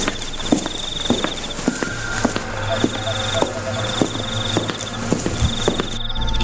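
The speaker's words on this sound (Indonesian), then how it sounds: "ada suara langkah kaki." Footsteps around a house at night, a steady series of soft thuds and clip-clop steps at a walking pace, heard against chirping insects and a constant low hum.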